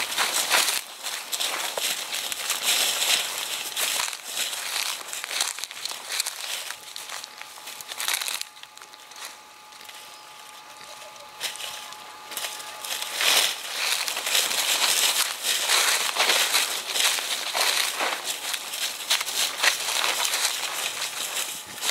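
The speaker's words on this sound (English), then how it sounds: "just unwrapping our gear" Hunting gear being unwrapped outdoors in Nevada: steady close crinkling and rustling of wrapping material, with scattered crackles and a brief faint tone in the middle, continuing throughout.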